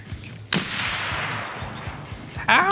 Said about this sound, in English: He's just shooting at stuff indiscriminately.